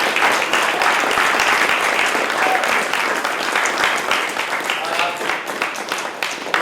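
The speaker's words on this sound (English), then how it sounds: "Please give a round of applause" A crowd applauds warmly after a children's mock debate at a community event, steady overlapping clapping throughout with a few voices and cheers mixed in.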